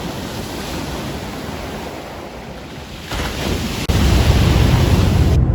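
Rough ocean surf washes in as a steady roar of breaking waves, loud and close, with wind buffeting the microphone and the surge swelling heavier toward the end.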